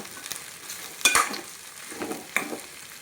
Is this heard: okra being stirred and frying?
yes